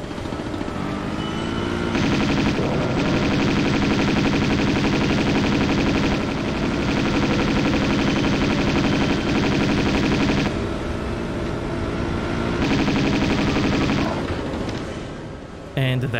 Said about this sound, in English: I'm gonna take out the second guy with Uzis